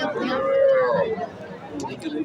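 A Sahiwal cross cow with her month-old first calf lets out a single drawn, mid-pitched low close by, over a murmur of nearby voices.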